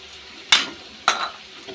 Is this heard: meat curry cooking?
yes